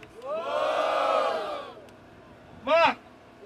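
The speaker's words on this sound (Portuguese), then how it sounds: "Barulho pro Mar" A crowd at a Brazilian rap battle roars and cheers for nearly two seconds, goes quieter, then a sharp loud shout of many voices bursts out briefly near the end.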